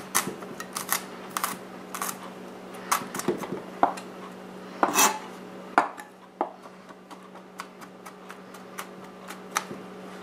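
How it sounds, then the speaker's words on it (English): Knife chopping garlic cloves into small pieces on a cutting board for guacamole, a quick irregular series of sharp close taps and clicks, some bursts faster than others, with no talking. "so that I get enough garlic flavor in there, I'm just going to chop into little pieces"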